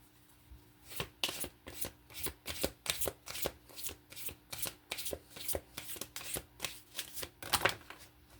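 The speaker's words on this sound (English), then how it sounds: "I shuffle these cards every single time so thoroughly" Tarot cards being shuffled in quick, regular riffles, a steady series of crisp flicking bursts close up and fairly quiet, with no talking.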